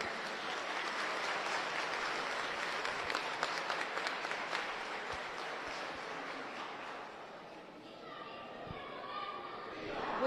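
A crowd claps in unison for the Virgen de la Cabeza at a romería, a sustained rattling applause that gradually fades out after about eight seconds, followed by faint voices.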